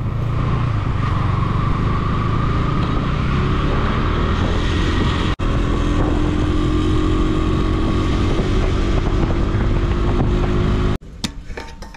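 A motorcycle runs steadily and loudly up close, its engine drone continuous with faint rattles, then cuts off abruptly near the end.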